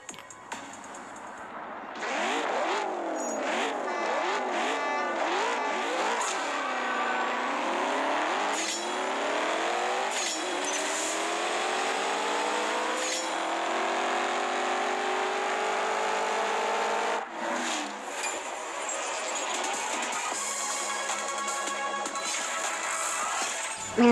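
Racing car engines in a video game whine and rise through gear changes, a steady loud stream of revving with pitch sweeps up and down as the race goes on, no talking.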